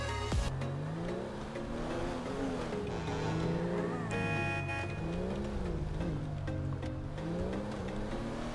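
A car engine in GTA V roleplay revs and shifts, its tone rising and falling in repeated sweeps at moderate level, with someone talking over it.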